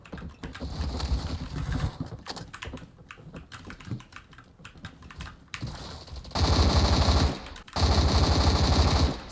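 Rapid automatic gunfire from a rifle fitted with a folding grip and compensator in a Roblox shooter, fast bursts over soft keyboard clicking, ending in two long loud sustained volleys.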